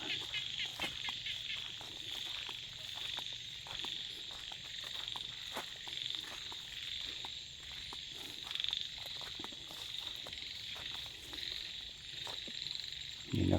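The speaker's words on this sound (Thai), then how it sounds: "เสียงกบ เสียงเขียดร้อง" Frogs and small frogs croaking at night near dry rice paddies in rural Thailand, a dense continuous chorus of trilling calls with insect-like chirps, steady and fairly distant, with no talking.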